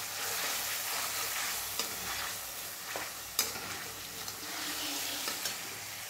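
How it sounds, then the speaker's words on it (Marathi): Ground spice paste with turmeric and sesame seeds stir-fries in a pan: a constant close hiss punctuated by occasional sharp utensil scrapes and taps, no voices. "आता हे जे वाटण आहे ते व्यवस्थित असं परतून घ्यायचं आहे।"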